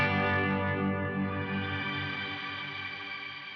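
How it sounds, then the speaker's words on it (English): A sustained guitar chord swells through the shimmer reverb of a Nux Atlantic delay and reverb pedal, dense upper harmonics ringing like a pad and slowly decaying over several seconds, alone with no talk. "hold down the foot switch for the shimmer effect"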